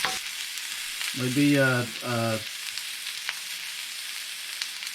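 Romanesco broccoli sizzles steadily in a frying pan, a constant close hiss with a few stirring clicks, while someone speaks briefly over it.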